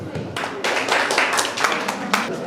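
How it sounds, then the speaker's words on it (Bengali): Loud clapping from participants at a municipal network workshop comes in several sharp, close bursts of group hand-claps, each swelling and fading quickly over a couple of seconds. "জোরে হাততালি।"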